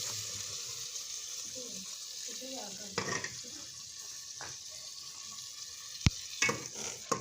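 Red chilli, salt, tomato and green chillies tip into a frying pan for a turnip dish, bringing a faint, hissing sizzle punctuated by a few soft knocks and one sharp tap, all fairly quiet.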